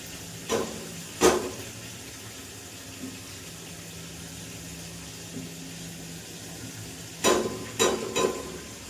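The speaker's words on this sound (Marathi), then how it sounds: "मस्तपैकी पेस्ट याच्यात होऊ द्यायची, छान परतून घ्यायची." Onion, ginger and garlic paste with a pinch of cumin frying in hot oil, giving a steady low sizzle with a few sharp clatters of stirring near the start and end.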